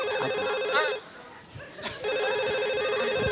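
A mobile phone rings with a repeating electronic tone, cuts off for about a second amid laughter and chatter, then resumes ringing steadily under people talking.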